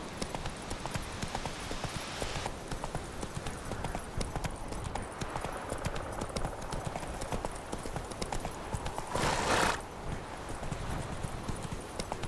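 Horse galloping in the video game The Witcher 3: Wild Hunt, a fast, steady drumming of hoofbeats on open ground that runs throughout, with a brief louder rushing burst near the end.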